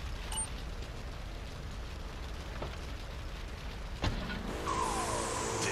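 A car driven in the video game GTA III Remastered, a steady engine and road rumble with a short mechanical knock partway through, then a brighter electronic tone that swells near the end.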